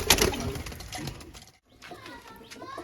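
Malbai pigeons at a loft in a home in Barasat give soft rolling coos, mixed with nearby voices and background noise, with a short pause midway before the cooing resumes.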